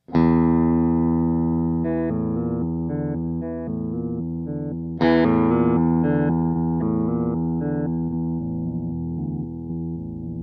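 A guitar through a Digitech Hammer On pitch-shifting pedal in its 5 sequence mode, stepping through a repeating sequence of shifted pitches, each note jumping to a new interval in a steady rhythmic pattern, sustained and clean.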